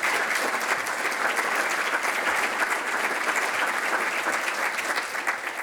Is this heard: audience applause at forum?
yes